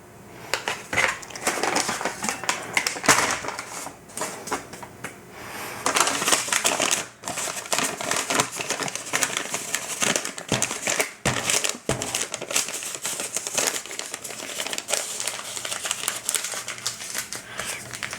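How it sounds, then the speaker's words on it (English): A bag filled with flour is folded over by hand, giving steady crinkling and crushing rustles of the packaging, close and continuous with brief pauses, no talking. "You definitely want to be able to fold the bag over."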